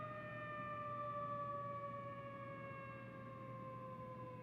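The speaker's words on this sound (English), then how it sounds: "It sounds like those old air sirens that you would hear from like the older movies." Old-style air raid siren from the video game Code Vein, a steady wailing tone that slowly falls in pitch, faint and continuous with no voices.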